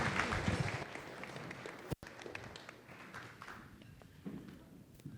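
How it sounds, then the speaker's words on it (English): A conference audience applauds a speaker with a dense, sustained round of clapping that starts loud. It eases slightly over several seconds, broken by a brief sharp cutout. "But just another round of applause for Dr. Johnson."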